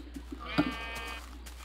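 A drawn-out, wavering bleat from a Minecraft 1.2.5 sheep lasts under a second, heard close and clear over low background noise with a few soft clicks.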